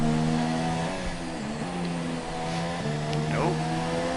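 A race car engine, heard at a distance on a rainy track, revs as the driver plays with the throttle, rising and dropping in pitch several times with a continuous mid-range drone.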